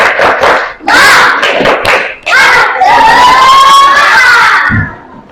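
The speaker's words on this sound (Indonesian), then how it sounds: "Kita tepuk semangat dulu biar semuanya enggak berisik." A classroom of children performs a rhythmic spirit clap, loud and close: bursts of patterned clapping mixed with excited chanting and shouting voices.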